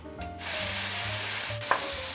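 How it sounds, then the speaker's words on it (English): Onions sizzle steadily in a frying pan while being sautéed, with a continuous close hiss and occasional soft stirring scrapes; no one speaks. "So the onions are sauteed down really nicely."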